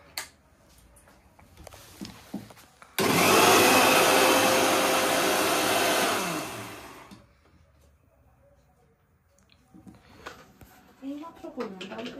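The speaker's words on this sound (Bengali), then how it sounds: "এটাকে ভালো করে ব্লেন্ডারে পেস্ট করা হবে।" A kitchen blender grinds oats, split peas and banana stem into a paste, one loud steady whirring burst of about four seconds, with people talking faintly before and after.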